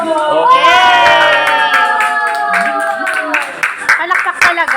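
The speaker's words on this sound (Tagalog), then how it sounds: "Palakpak talaga." Children clap and cheer loudly at a Christmas Day gift giving, a voice whooping high over the crowd before the applause breaks into scattered claps.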